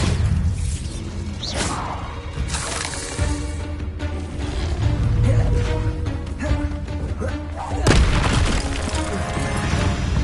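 Bombarda blasting spells in Hogwarts Legacy explode in heavy booms with whooshing and crashing debris, several loud blasts spread across the stretch amid ongoing combat noise.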